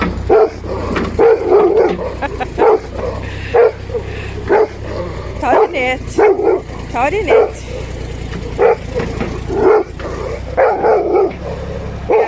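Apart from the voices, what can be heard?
dog barking frantically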